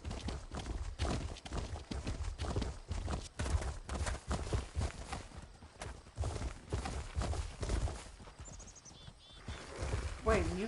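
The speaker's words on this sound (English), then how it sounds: "Wait, you got a tiny horse as a pet?" A tiny pet horse in the game ESO clip-clops along in quick, steady, fairly close hoofbeats, with background game sounds and a voice talking over part of it.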